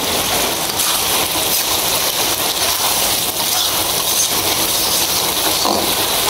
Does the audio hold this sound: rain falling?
yes